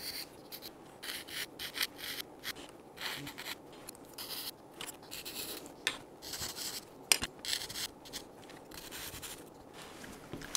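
Hobby abrasive sticks sand a plastic scale model rocket nozzle for an Estes Saturn V kit, a close, continuous run of quick raspy rubbing strokes in an irregular rhythm, with no voices.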